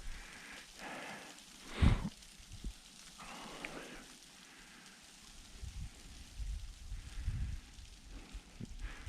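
Winter rain falling on an icy rural property, a faint steady patter mixed with occasional louder knocks and rustles, heard at a distance without talk.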